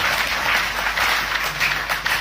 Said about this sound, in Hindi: एक बार जबरदस्त तालियां आप सब अपने लिए बजाएं।